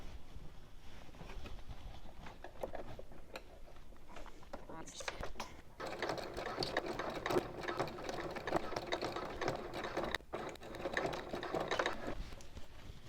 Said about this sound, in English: I'm going to stitch along here with a 3/8 inch seam allowance.